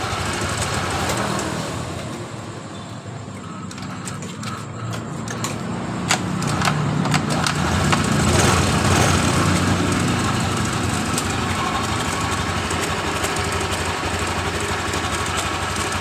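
A Honda Genio scooter with a crackling engine noise fault starts up, its motor catching partway through and settling into a steady, loud, buzzing idle heard close up with no talking.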